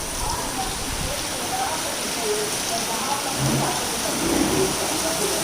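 Steady rain pours down over village farmland in a dense, continuous hiss, with faint voices and murmurs mixed in beneath it.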